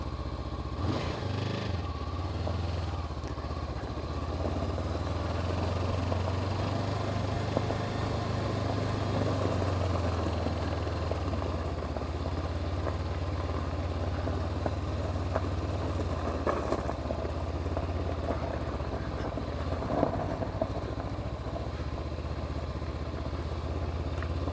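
A 2021 Honda CB500X adventure motorcycle engine runs steadily while riding, a close, continuous drone with road and wind noise and no spoken voices.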